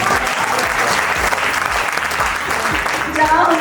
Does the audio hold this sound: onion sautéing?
no